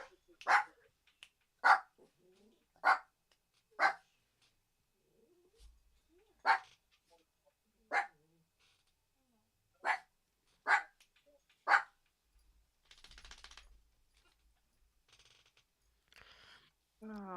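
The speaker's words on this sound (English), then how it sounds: "Don't let him bark!" A dog barks repeatedly in sharp single yaps spaced about a second apart, close and clear, followed by faint rustling and a brief voice near the end.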